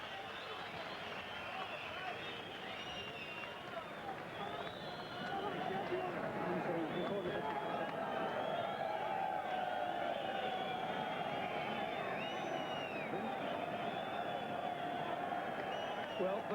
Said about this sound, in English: the crowd noise ensures that we can't quite hear what the trainer, Johnny Lewis, is suggesting to Tszyu